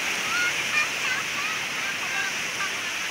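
Sea waves at high tide on a beach in Banten wash and hiss in a steady broadband rush with small swells, fairly soft and continuous and without speech.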